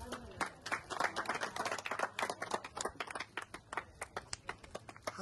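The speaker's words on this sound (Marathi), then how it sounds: "टाळ्या वाजवा ना" An audience claps in sharp, dense, rapid bursts of hand claps that thin into more distinct individual claps toward the end.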